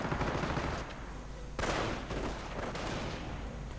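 Sustained machine gun fire from a mounted MG in a World War II strategy game battle, dense rapid bursts with a sharp louder volley partway through, steady and continuous without talk.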